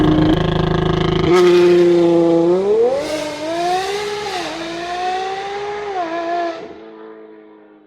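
A loud, close Ferrari 812 Competizione V12 roar through a custom exhaust that revs up and down in pitch, a harsh, raspy exhaust bellowing continuously before easing off at the end.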